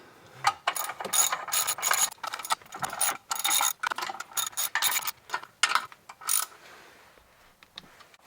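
A hand ratchet clicks in quick repeated bursts with short pauses as it tightens clutch bolts on a Volkswagen Vanagon, close and fairly loud, with no voices.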